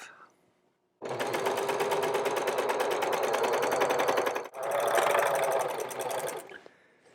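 A sewing machine stitches the long side seam of a jacket made from couch fabric, running down the sleeve and body in a fast, rattling, close burst that stops briefly, then resumes before cutting out, with no talk over it.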